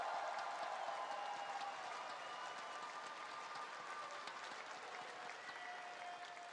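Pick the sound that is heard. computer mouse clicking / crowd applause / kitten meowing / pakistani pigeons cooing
crowd applause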